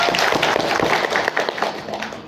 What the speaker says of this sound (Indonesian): Beri tepuk tangan buat teman-teman semuanya hari ini.